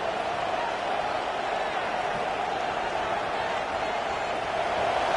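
A football stadium crowd keeps up a dense, steady roar against the offense, a broad wash of distant voices that holds unbroken and swells slightly near the end.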